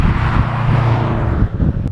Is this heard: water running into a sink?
no